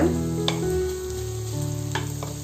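Green chillies and curry leaves sizzle loudly in hot oil in a pan, a steady close crackle broken by a few sharp spatters and stirring clatters, with no voices.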